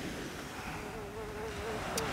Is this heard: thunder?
no